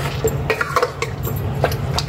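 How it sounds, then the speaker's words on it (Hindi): Spices and onions being stirred in a cooking pot for a beef and bottle gourd meat curry: a metal spoon scrapes and clinks against the pot in several irregular strokes over a steady low hiss, close and fairly loud, with no talk. "अब हम इन्हें सारे मसालों में ऑनियन सब कुछ अच्छी तरीके से मिक्स कर"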